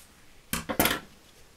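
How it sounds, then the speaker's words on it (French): A blade trims the edges of a handmade wedding card, two or three quick crisp snips in close succession, close-up and otherwise quiet. "je vais recouper un peu sur les côtés parce que c'est un peu grand"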